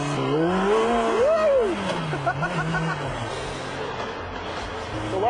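A Campagna T-Rex three-wheeler with motorcycle-style gear shifting is driven and cornered hard, its engine note climbing and falling through gear changes, loud and close, then settling into a steadier drone.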